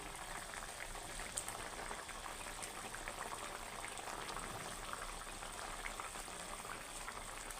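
Water coming to a boil in a pot for Rui fish curry with potatoes and peas, a faint, steady bubbling hiss that continues without pause.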